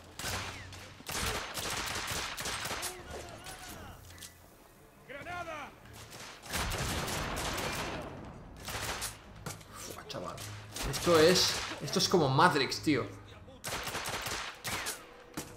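Rapid gunfire bursts from the video game The Order: 1886 crackle through most of the stretch, loud and close, with someone talking excitedly over the shots.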